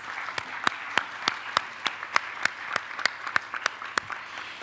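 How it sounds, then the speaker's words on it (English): Sparse, steady clapping from a small audience, individual claps distinct and evenly spaced, moderately near. "please a big round of applause for our three wonderful ladies."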